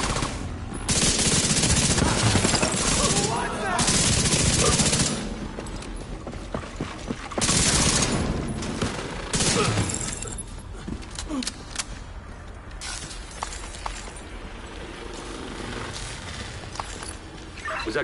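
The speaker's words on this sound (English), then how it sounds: "that gunfire?" Loud machine-gun fire in the Division 2 shooter game comes in bursts and rattling volleys, with short pauses between them and occasional game voices.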